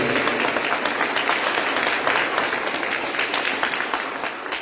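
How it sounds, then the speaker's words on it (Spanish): A crowd at a religious service claps steadily in a dense, continuous wash of applause that holds at full strength for several seconds. "Denle fuertes aplausos a nuestros reyes."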